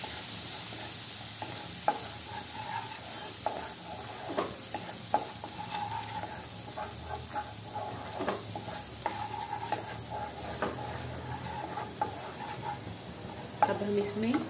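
Garlic and ginger fry gently over low heat for dhaba-style paneer masala, a soft continuous sizzle punctuated by scattered light stirring taps and clicks, close but quiet.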